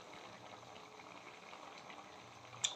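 A pot of prawn and potato curry with water added comes to a boil, giving a faint, steady bubbling simmer, close and quiet, with no voices.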